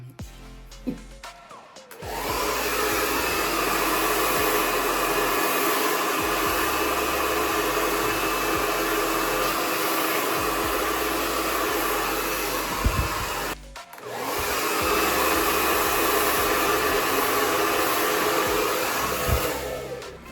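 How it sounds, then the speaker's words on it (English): A hair dryer blows with a steady, loud rushing roar up close while blowing out curly hair with a round brush, cutting out briefly before starting again and continuing to the end. "I'm still going in at an angle with my blow dryer"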